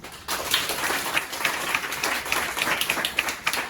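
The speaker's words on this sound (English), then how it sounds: "let's give her a round of applause" Steady applause from a small crowd at a Toastmasters club meeting, a continuous patter of clapping hands lasting throughout.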